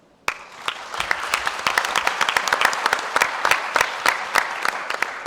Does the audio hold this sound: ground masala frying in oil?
no